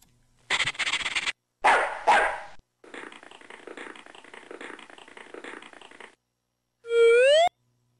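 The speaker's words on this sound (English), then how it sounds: "The giant flea has dogs." Dog barks from a video game featuring a giant flea, loud clipped sound effects in separate bursts: a few sharp barks, a rapid chattering series, then a falling tonal whine, with silence between.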